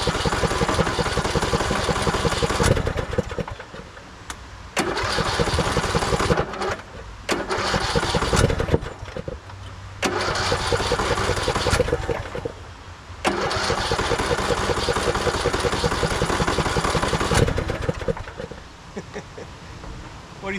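The starter on a 2014 Craftsman T1600 lawn tractor cranks the engine in repeated loud, close bursts separated by short pauses, a churning whir that keeps stopping and starting again without catching cleanly.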